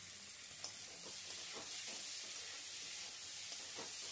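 Chopped tomatoes go into a pan of frying potatoes for an egg and potato curry, giving a soft, steady sizzle with scattered stirring scrapes and light taps throughout.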